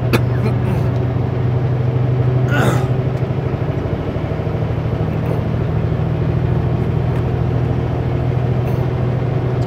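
A Super B semi truck's engine labours up the steep Anarchist climb in 10th gear on a cold morning, with a steady low diesel drone and rumble from the cab. Someone talks over it.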